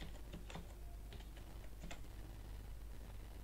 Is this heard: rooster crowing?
no